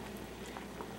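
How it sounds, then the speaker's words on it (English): Water with chicken broth bubbles at a soft, steady boil in a pot, a faint continuous gurgling and popping close by. "Drop it into the boiling water"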